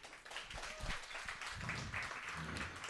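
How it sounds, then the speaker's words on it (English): A meetup audience claps for speakers called up in front of the crowd, giving a steady patter of applause with voices and cheering mixed in. "Clap it up, clap it up."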